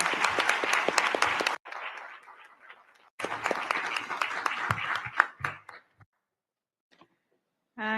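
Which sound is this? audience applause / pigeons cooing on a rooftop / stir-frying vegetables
audience applause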